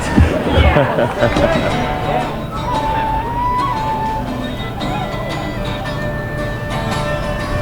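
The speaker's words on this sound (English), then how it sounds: "And the crowd went wild." Crowd at the Georgia Renaissance Festival, an outdoor gathering with continuous chatter and murmuring babble, a louder burst of voices at the start, then a steady hubbub with a few distinct voices and tones rising above it.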